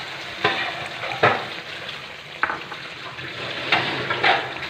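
Yogurt being stirred into beef shinwari karahi in a pan, with a steady sizzle and periodic scraping strokes of the spoon roughly every second, close and moderately loud.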